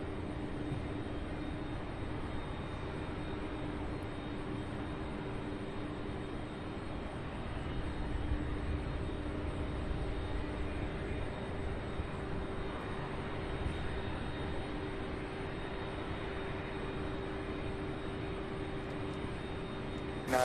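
An airplane at Louisville SDF airport, heard as a steady, even jet roar with low rumble and a constant whine, sustained at moderate level throughout with no talk.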